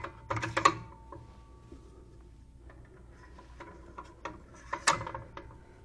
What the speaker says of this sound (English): Attach the foot pedals to both sides.